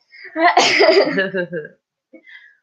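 A single loud, close sneeze from a woman, with a sharp intake and burst, followed by a brief faint sniff or vocal sound after a short pause.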